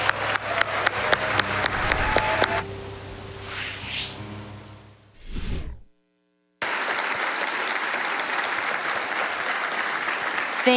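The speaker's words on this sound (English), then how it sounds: "Let's have one more round of applause for Linkus." A live crowd at a Games Done Quick speedrun event for The Legend of Zelda: The Wind Waker claps loudly for a few seconds, then the sound cuts out briefly before the applause returns as a steady roar.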